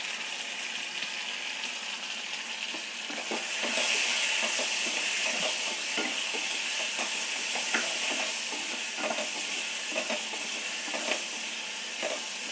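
Sliced potatoes seasoned with turmeric and salt fry in a pan for a Tamil-style urulai fry, a soft continuous sizzle joined after a few seconds by louder hissing and a run of close scraping and clicking strokes as they are stirred.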